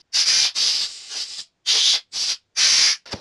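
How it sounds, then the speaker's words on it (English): An air compressor nozzle blasts a motorcycle oil screen from a DRZ400 in short loud hissing bursts, about six in total, separated by brief silences. "I'm going to go hit this up with the compressor now and just blast the rest of it out."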